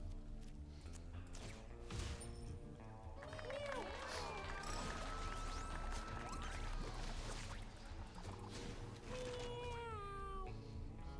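Cartoon cats meowing in the video game Mewgenics, several gliding meows and yowls over game music and ambient effects, with a person talking at times.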